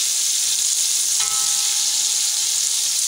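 Peppercorns fry in a pan for spaghetti, giving a loud, continuous close sizzle with a faint clink partway through.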